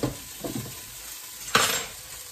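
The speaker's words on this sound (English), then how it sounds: "I'm going to give this rice another stir" A spoon stirs rice in a pot on a hob, giving a few scraping strokes followed by one louder clattering scrape near the end, close and fairly quiet, without talk.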